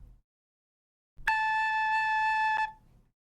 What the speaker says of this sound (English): This is what A sounds like.